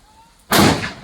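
A sutli bomb firecracker bursts outdoors on a farm, a single sudden loud bang after a quiet lead-in, ringing out with a rough decaying rumble.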